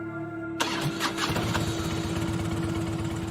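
A new motorcycle engine cranks and catches abruptly, then settles into a steady, loud, close idle with a constant hum running underneath.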